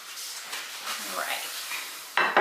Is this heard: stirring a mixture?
yes